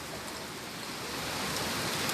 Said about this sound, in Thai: ทีนี้ฝนครับโอ้โห เนี่ย มาแล้วครับ เริ่มเริ่มแรงไปเรื่อยครับ